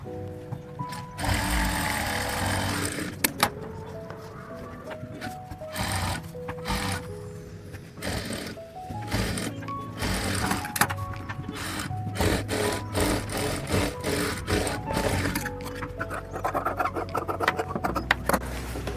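A sewing machine runs in quick stretches while stitching a half-inch seam along the lower side of a blouse sleeve, a rapid, rattling whir with short pauses and fabric handling between runs, close and with no voices.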